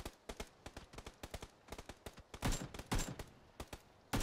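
A gun set to automatic fires in PUBG, rapid, close, sharp shots in quick irregular bursts, some heavier booms mixed in, with no talking over them.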